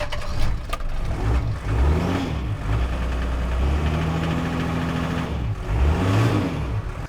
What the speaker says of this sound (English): It seems to spool up extremely quickly, obviously because of the size of the turbo